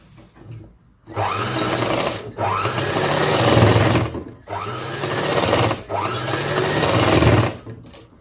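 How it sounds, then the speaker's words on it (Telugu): A sewing machine stitches a long frock in three loud, close bursts of rapid, even whirring, separated by short pauses. "నేను కుట్టి అయితే వేసి చూపిస్తాను చూడండి"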